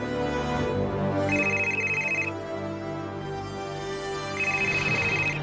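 A phone rings with an incoming call, two bursts of a high electronic ringtone separated by a pause, heard over a sustained musical background.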